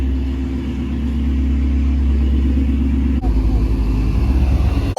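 A 2019 Ford Mustang GT's V8 rumbles low and steady at close range as the car is driven out after a wrap, the engine note shifting partway through, with excited voices nearby.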